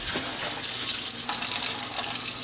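Kitchen tap water runs steadily into a mug being filled for garlic, honey and lemon tea, a close, continuous hiss and splash that brightens partway through as the stream strengthens, with no talking.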